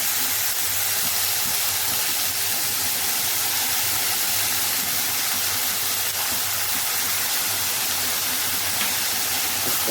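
Finely chopped coriander sizzles in hot oil in a pan, a steady, close, hissing fry that continues evenly with no talk over it.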